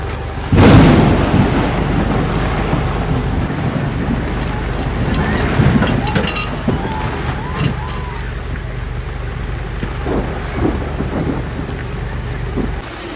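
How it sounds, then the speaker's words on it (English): A severe thunderstorm during a Fourth of July event: a loud thunder crack opens over steady heavy rain and rumbling, with further distant rumbles and rain hiss continuing throughout, and faint voices in the background. "a major thunderstorm rolled in and shut down the event"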